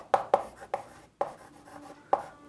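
Marker strokes on a whiteboard during a Class 11 trigonometry lecture: about seven short, sharp squeaky taps and scrapes arriving in irregular bursts, fairly close, with quiet gaps between them.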